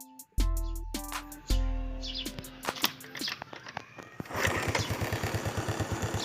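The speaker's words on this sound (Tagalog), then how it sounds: "pakinggan po natin tunog kanyang makina po. Napaka-smooth po niyang umandar." RUSI SC 125cc motorcycle engine being kick-started, with a few sharp mechanical clunks and tones first, then settling into a steady, smooth, rapid idle putter.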